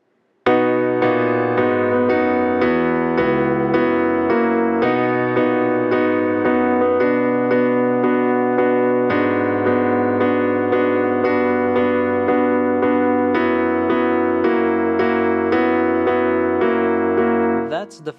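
Solo piano plays the full first verse of a song, a steady stream of bright chords and a moving bass line, close and loud throughout with no voice.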